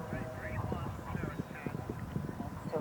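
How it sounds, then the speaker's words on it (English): Hoofbeats of a horse galloping over a cross-country eventing course at a three-star competition, rapid irregular thuds heard faintly under a commentator's voice. "it's a big log drop in, and Kinsale 10 looks like he's a little bit hesitant"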